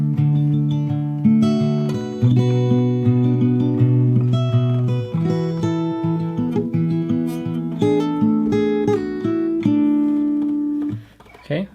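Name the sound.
fingerstyle guitar playing a section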